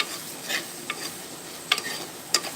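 Mackerel fries in a pan with a soft, steady sizzle and a few sharper crackles and pops, close but quiet, without voices.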